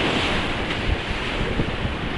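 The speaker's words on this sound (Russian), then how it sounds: "Смотрите, какая волна." Sea waves breaking and surging over a beach reef at Sharm el Sheikh, Egypt, a steady broadband wash of surf with wind buffeting the microphone throughout, loud and close with no voices.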